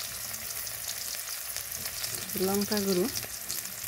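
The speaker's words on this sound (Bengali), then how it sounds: "লবণ দিয়ে মশলা কষে নিব।" Onion, green chili, sauce and spices frying in hot oil give a steady broadband sizzle throughout, with a short burst of speech near the end.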